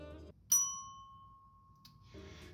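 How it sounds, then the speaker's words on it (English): Small hotel desk bell from the Hollywood Tower Hotel of the Tower of Terror ride struck once, a clear bright ding ringing out and slowly fading, close and alone between bits of background noise. "the Hollywood Tower Hotel bell, which I'm gonna ring real quick for your pleasure"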